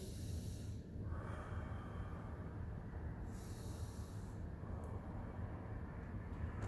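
A slow, deep inhale during qi gong practice, heard as a steady, airy breathing noise over a continuous rumbling background, with no talking.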